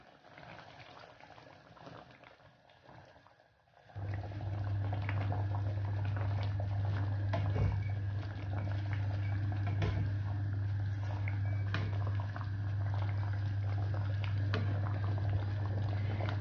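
Fish curry made with coconut milk bubbles in a covered pan, a steady close simmering burble that starts abruptly after a few quiet seconds and holds on with no talking.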